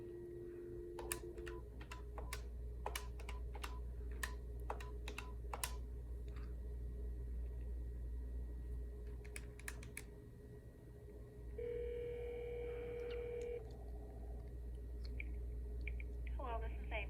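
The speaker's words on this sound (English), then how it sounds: "You will then dial 9 plus the phone number or enter in their extension number." Number keys pressed on an office desk phone, a quick run of short beeping tones followed by a pause and a few more presses, then steady tones over a constant low hum, with a voice speaking quietly throughout.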